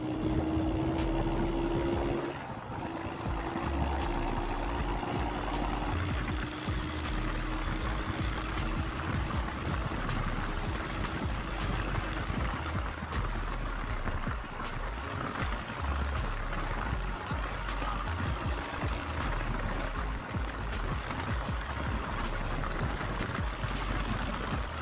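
Two Honda 70cc motorcycles, a 2014 model and a 2022 model, racing: a steady, loud buzzing engine drone with a rising whine early on, continuous for the whole stretch.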